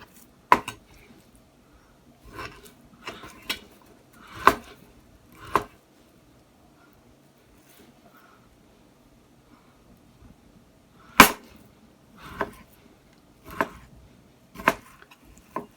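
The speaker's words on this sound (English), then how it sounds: "Start at the very end and just slice. And this is how thin we want it to be." A Dalstrong knife slices beef thinly on a board, heard as sparse sharp taps and clicks against the surface, scattered irregularly with quiet gaps between cuts.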